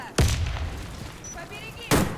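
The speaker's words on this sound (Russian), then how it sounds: "Осторожно, граната!" A grenade blast in a first-person shooter game opens with a sharp, loud boom, and a second booming blast lands near the end. A faint hiss and brief tonal game effects fill the gap between them.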